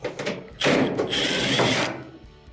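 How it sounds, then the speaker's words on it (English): A screw is backed out of a clothes dryer's front panel, giving a close, short ratcheting and whirring mechanical sound that lasts about a second, with no talking. "Remove the screw."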